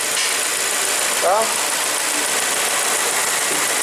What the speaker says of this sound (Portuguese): Olha como é que o motor tá igual um reloginho